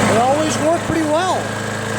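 A Briggs & Stratton Quantum engine on a Craftsman push lawn mower runs steadily nearby, its loud, even drone continuing throughout while a voice talks over it.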